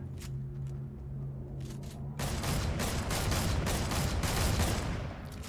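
Heavy tank gunfire in Fortnite, quieter rumbling and pops at first, then a sudden loud dense barrage of rapid blasts that continues to the end.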